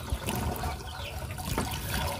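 Water trickles and splashes as it is poured out for a sick chicken with bird flu, a soft, steady dribble heard up close for about two seconds, with no talking.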